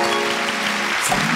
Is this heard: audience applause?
yes